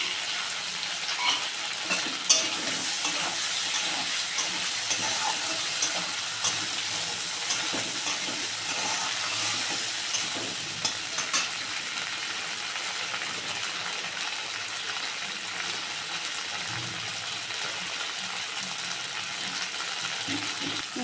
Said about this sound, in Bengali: আমি টমেটোটা দিয়ে দিচ্ছি মশলার সাথে একবারে ভাজা হয়ে যাবে